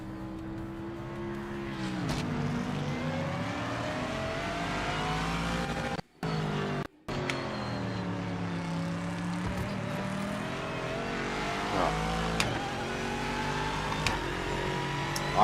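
A Mustang race car in Project Motor Racing, engine revving up and down through the gears with a steady rising and falling drone, loud and continuous, two brief cutouts, occasional tire squeal.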